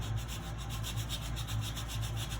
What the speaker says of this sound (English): So some of these have a little bit more sanding on the bottom.